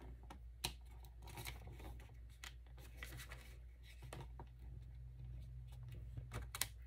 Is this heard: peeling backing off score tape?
yes